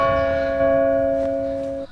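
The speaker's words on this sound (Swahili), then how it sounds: "Kengele imegongwa nje." A church bell rings outside in a single sustained, steady tone that hums evenly and fades out at the end, heard alone without voices.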